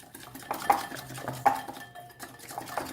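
A spoon stirs powdered spices, including Kashmiri red chili powder, in a bowl for a tandoori chicken marinade, giving close scraping with a few sharp metallic clinks against the bowl.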